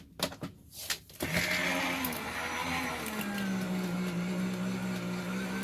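Crafters Companion die-cutting and embossing machine cranking dies through slowly, a steady mechanical whirring drone with a low hum that rises after a few soft knocks and runs continuously to the end.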